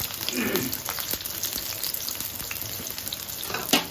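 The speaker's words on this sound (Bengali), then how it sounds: "কড়াইটা গরম করে তেল দিয়ে আমরা একটা ভাজি করি" Potatoes, broad beans and drumsticks sizzling and crackling in hot oil in a wok, a steady frying hiss with occasional clinks of stirring.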